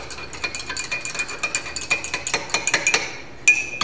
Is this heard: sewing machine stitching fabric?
no